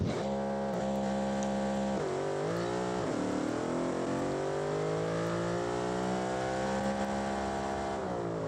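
A nitrous-fed drag car engine in the game Automation, built for about 2000 horsepower, revs hard and screams up through its gears, the pitch climbing steadily, loud and close, with no voices.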